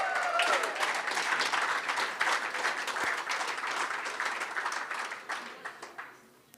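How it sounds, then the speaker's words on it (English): Audience applause at a club AGM and awards evening, dense clapping from a crowd that holds steady for several seconds, then thins into scattered individual claps and fades out. "And Michelle Weber, a round of applause, please."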